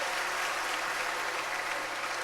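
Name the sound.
congregation applause for the children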